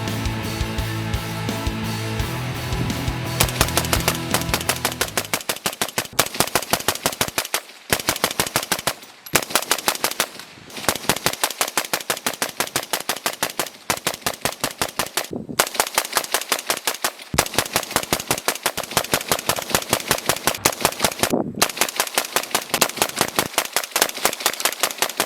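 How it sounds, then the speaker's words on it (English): Rapid gunfire from a weapon fitted with a Vortex UH-1 Gen II holographic sight during a 500-round burn-down test: long, loud, near strings of shots with a few brief pauses between bursts, no talking. "here's your 500 round burn down"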